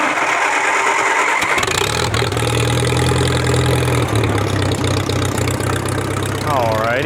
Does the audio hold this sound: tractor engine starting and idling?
yes